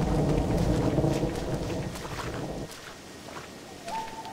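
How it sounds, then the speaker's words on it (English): Heavy rain pours in the video game Red Dead Redemption, with a deep rumble of thunder rolling underneath, easing toward the end as a faint tone rises. "And the rain has not let up this entire time."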